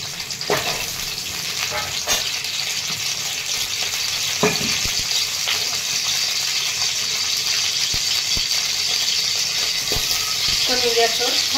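Amla (Indian gooseberries) frying in a little oil on a tawa over low gas, a steady close sizzle with stirring scrapes and small clicks throughout, mild background murmur.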